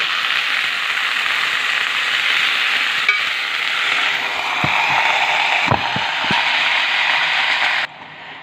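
Onions and tomato purée sautéing in a pot for Egyptian green fava beans give a steady, close sizzle, with a few low knocks of a spoon stirring partway through before the frying quiets near the end.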